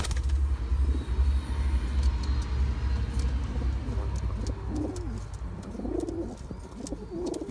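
Pigeons coo repeatedly in low, throaty bursts, close and fairly loud, over a steady background rumble of passing traffic, with no talking.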